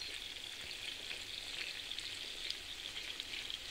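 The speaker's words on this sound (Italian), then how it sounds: "Adesso l'ho girato, lo facciamo rosolare dall'altra parte." Lamb browning in a frying pan with white wine, a steady, faint hiss and crackle of sizzling fat that stays even throughout with no voices.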